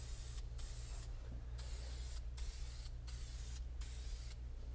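Dupli-Color vinyl and fabric paint is sprayed from an aerosol can as a thick second coat, with steady hissing bursts in a regular on-off rhythm, close and alone with no talking.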